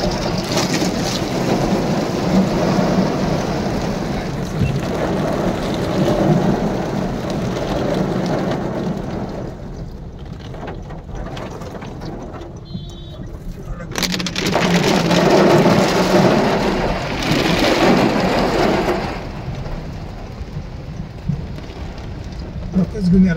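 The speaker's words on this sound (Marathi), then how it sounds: "पाऊस आहे जबरदस्त आहे ना भयानक पाऊस चालू आहे" Heavy rain pours steadily at Malshej Ghat along a waterlogged road, a dense roar broken by rumbling thunder, briefly easing near the middle before surging back loud and close.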